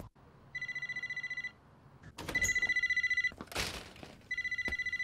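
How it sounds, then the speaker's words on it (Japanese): Telephone bell ringing in an Initial D anime scene, repeated bursts of electronic trilling rings separated by brief pauses, loud and close, with a short rush of other noise between rings and no talk over it. "たくみくん、お願い、早く出て。"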